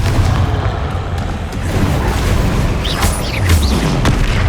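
Confringo blasting curse detonating in the Hogwarts Legacy video game, deep booming explosion with rumbling low end and sharp bursts and whooshing effects in the latter half, loud and close, no speech.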